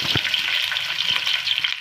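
Onion pieces crackle and sizzle loudly in hot mustard oil, a dense, close frying hiss with a faint stir, and no one speaking.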